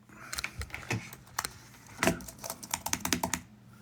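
Computer keyboard typing in irregular bursts of sharp, close key clicks with short pauses between them, and no voices.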